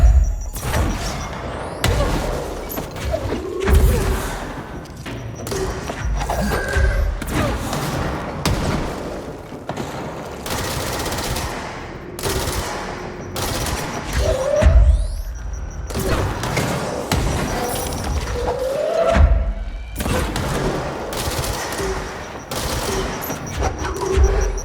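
Grenades exploding in the video game Control, a long sequence of loud booms and sharp cracks with gunfire bursts scattered throughout, heavy thumps recurring at irregular intervals.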